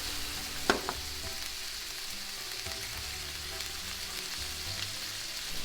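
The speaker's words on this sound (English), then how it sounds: "We give a little cook on this side, cook on the other side, and we take out" Shrimp frying in a pan, a steady broadband sizzle that holds throughout with a sharp tap near the start, heard alone without talk.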